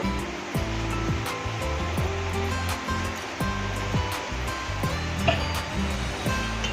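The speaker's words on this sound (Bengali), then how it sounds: "পরিমাপ মতো জল এখানে আমি অ্যাড করে দেবো" Water rushing and splashing steadily into a pot of chicken curry, a continuous close pour that runs under faint kitchen clatter.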